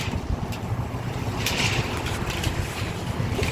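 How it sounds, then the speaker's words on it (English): Wind blowing outdoors on a dusty Arizona day, a continuous rushing buffet with gusty swells and low rumbling microphone noise throughout. "the pinwheels and the wind are blowing"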